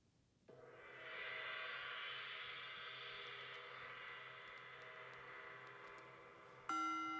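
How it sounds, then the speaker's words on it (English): A gong rings out once to open a yoga practice, swelling into a long, shimmering sustained tone that hangs for several seconds before a second, sharper strike lands near the end. "There will be a gong to start the practice."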